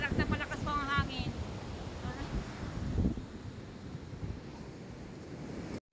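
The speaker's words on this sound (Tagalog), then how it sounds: "Palakas po na ang hangin." Strong seaside wind buffets the microphone with a rough, continuous roar while surf washes underneath; a voice talks briefly at the start, then the gusting noise carries on alone until it cuts off.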